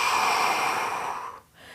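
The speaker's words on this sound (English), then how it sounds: "I'm going to take a couple nice long deep breaths." A long, steady deep breath drawn during a fat-burning yoga workout, one sustained airy rush that fades briefly near the end before a softer breath begins, close and fairly loud with no talk.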